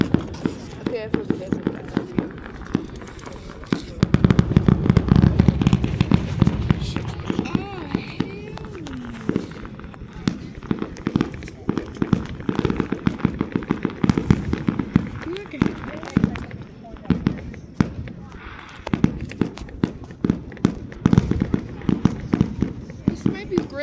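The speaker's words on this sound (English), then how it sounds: "Look all the fireworks go." A fireworks show explodes in a dense series of sharp bangs and crackles, some louder bursts standing out, with excited voices talking over the barrage throughout.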